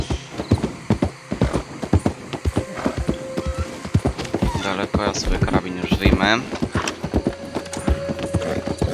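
Horse hooves clip-clopping at a quick gallop in Red Dead Redemption 2, a loud close steady beat running throughout, with someone talking over it.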